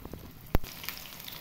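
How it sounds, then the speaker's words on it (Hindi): Hand-rolled kebab or kofta balls dropped into hot ghee, a low steady frying sizzle broken by one sharp splat as a ball lands, close and moderately loud, no talking. "इधर मैंने घी गरम किया हुआ है ऐसे डाल दिया"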